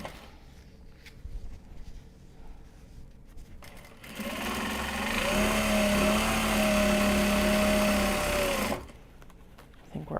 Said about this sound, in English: we'll show off the actual sewing